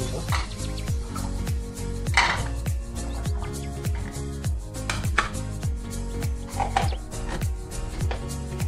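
A hand-operated manual blender grinds garlic, giving a fast repeated chopping clatter of blades against the container in a steady rhythm, close and loud throughout.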